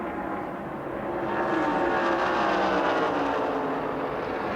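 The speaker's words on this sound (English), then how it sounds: "There's Dale Earnhardt now going to the high side of Bobby Waywack in car number 74" NASCAR Winston Cup stock cars from 1986 race around the TranSouth 500 track in a steady, loud engine roar that swells slightly as the pack draws closer, with no voices over it.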